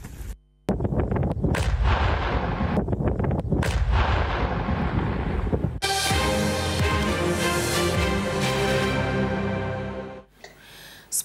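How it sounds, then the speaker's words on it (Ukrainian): A controlled detonation of a drone warhead: a loud, booming blast hits after a short silence, followed by heavy rumbling and crackling debris that slowly trails off before a final sharp bang. "Увага! Вибух!"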